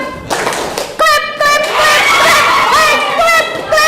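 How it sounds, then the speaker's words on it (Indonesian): Students in an Indonesian vocational school classroom slap the table and clap their hands together in a group game, producing a few sharp group hits that break out over a lively mix of children's voices. "Boom adalah tepuk meja. Clap, tepuk tangan."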